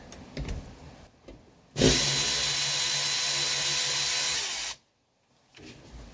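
A power tool whirs steadily for about three seconds, backing out a seat back screw in a 1985 Mercedes 300CD, loud and close, with faint rustling handling sounds before and after.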